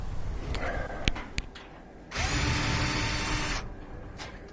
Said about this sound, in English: first take off this bolt.